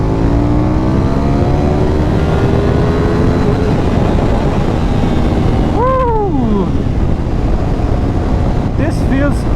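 A 2024 KTM 990 Duke motorcycle accelerates hard in third gear, its engine note climbing steadily under heavy, constant wind roar, with a brief burst of a voice partway through.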